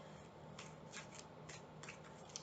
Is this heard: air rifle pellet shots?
no